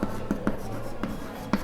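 A pen scratches out a Class 10 math solution on paper, five short, crisp strokes at irregular intervals, close and clear over a low room hum.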